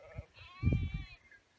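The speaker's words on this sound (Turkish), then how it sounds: "İçerisinde koyunları var." A single sheep gives a wavering bleat, fairly faint and from a short distance, over quiet outdoor background.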